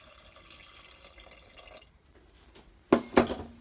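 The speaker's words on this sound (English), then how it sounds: "I take some water and I pour it into the starter." Water poured into a sourdough starter of flour, a quiet trickle followed by two short, brighter splashing pours near the end.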